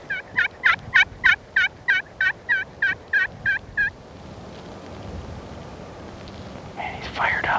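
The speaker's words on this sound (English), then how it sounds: "The birds were in there, and we had a good time gobbling hard, strutting, spitting, and drumming" A wild turkey on a Wyoming mountain hunt gobbles in a rapid burst of about a dozen loud, evenly spaced calls, then falls quiet against steady outdoor background noise before another faint call.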